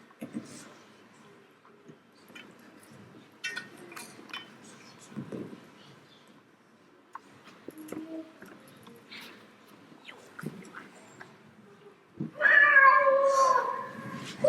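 A cat meows loudly and close near the end, following a stretch of quiet rustling and faint clinks.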